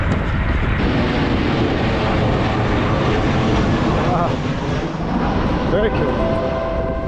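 A plane on the Glasgow Airport flight path over Clydebank gives a loud, steady jet roar overhead, mixed with wind buffeting, and a voice briefly speaks partway through.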